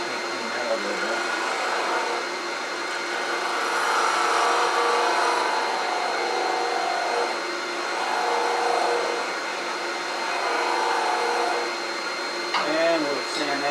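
Wood lathe turning an acorn as a rough edge is cleaned up, a continuous loud whirring hum that swells and eases in long waves, with a brief scrape near the end.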